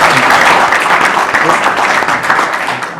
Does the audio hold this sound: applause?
yes